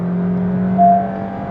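Engine note of a Honda City Hybrid while driving, a steady close hum with a brief rise in pitch and loudness partway through, as if accelerating, with no talk.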